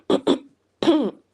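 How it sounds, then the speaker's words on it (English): A person clears their throat twice in quick succession, then gives a longer, rougher rasping clear, all close and alone in near silence. "I need to try to clear my throat."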